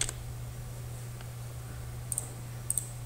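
A computer mouse clicks a save button in a few sharp, faint clicks, one early, then a pair and another pair later, over a steady low electrical hum.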